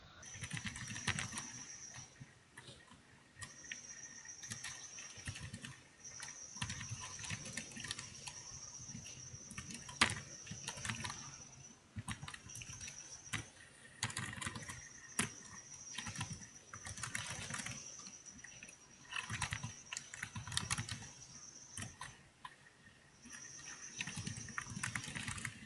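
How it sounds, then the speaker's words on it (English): A computer keyboard clatters with steady, irregular keystrokes in long runs broken by brief pauses. The typing is fairly quiet and close, over a faint, high, constant whine. "Let's type this and see."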